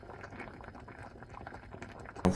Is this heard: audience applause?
no